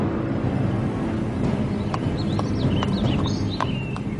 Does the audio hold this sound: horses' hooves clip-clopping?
yes